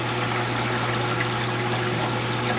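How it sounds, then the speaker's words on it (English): Water flows steadily through a home aquarium, a continuous close trickle and wash with a low steady pump hum beneath it, no voices. "Water flow all through it is actually doing very good."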